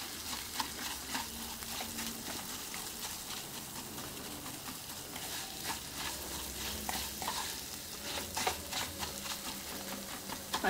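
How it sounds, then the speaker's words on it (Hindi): Khoya is mashed and roasted with moong dal halwa in a pan, giving a soft, continuous sizzle with scraping and stirring clicks that stay faint and steady throughout. "अच्छी तरह मैश करके इसे भी भून लेंगे इसी के साथ।"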